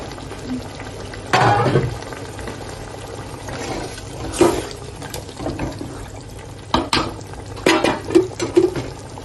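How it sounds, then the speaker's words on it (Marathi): Water poured into a pan of Malvani mutton masala as it cooks, giving a few brief, close splashing and sizzling bursts spread over a low, steady simmer with no voices. "झाकणाचा मसाला थोडं घेऊन त्याचं पाणी टाकायचं."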